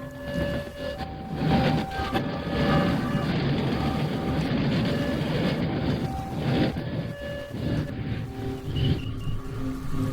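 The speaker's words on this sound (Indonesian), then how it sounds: "Dan beberapa detik kemudian, kereta api pun lewat." Train passing a railway crossing as a radio drama effect: a loud rumbling roar with clattering bursts and bright horn-like tones that build, hold and swell again over about ten seconds, with no voices.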